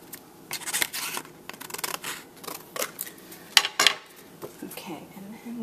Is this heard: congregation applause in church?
no